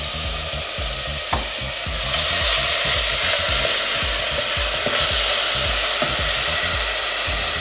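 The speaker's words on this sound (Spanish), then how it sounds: "Una vez que está caliente, vamos a poner nuestra cebolla bien picada." Finely chopped onion frying in hot oil in a pot, giving a loud, continuous close sizzle that swells after the onion goes in, with faint stirring scrapes and no talk.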